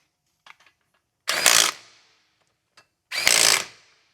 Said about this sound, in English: Tighten up those 14mm bolts on there.